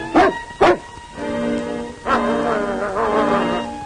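A dog gives two sharp, loud barks up close, then lets out long, high whimpering whines.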